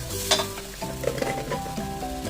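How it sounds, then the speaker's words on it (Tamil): Chopped tomatoes sauté in a pan with curry powder for a chickpea (chana) gravy, with a low steady sizzle, a brief stir at the start and soft utensil scrapes. "இப்போ இந்த தக்காளி நல்லா வதங்கட்டும்"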